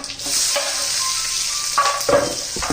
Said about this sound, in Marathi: त्यात लसूण घातला कांदा घालूया